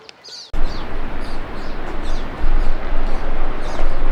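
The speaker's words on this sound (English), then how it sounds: "And the birds." Small birds chirp at a bird feeder near hot springs in Ouray, brief high tweets scattered over loud rushing background noise, following a quiet start.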